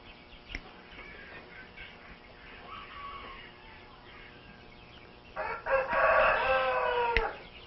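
Chickens at a poultry show or farm cluck softly, then a rooster crows loudly near the end over a busy background of other birds.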